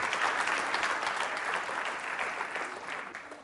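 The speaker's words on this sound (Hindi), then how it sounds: "तुलसी के लिए तालियां जोरों से बजाइए, जोरदार तरीके से तालियां बजाइए जोरों से आप।" Sustained audience applause in an indoor university quiz show hall, dense and steady, loud throughout and slowly easing toward the end.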